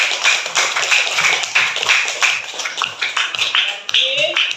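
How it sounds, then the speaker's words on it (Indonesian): Short burst of classroom applause for a student, a small group clapping unevenly at close range, brief claps packed together with faint voices underneath. "Kita berikan tepuk tangan untuk temannya."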